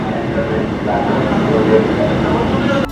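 Kolkata Yellow Line metro train running on an elevated section near Dum Dum Cantonment, a steady low rumble and hum of the moving carriage heard from inside, with a brief clunk at the very end.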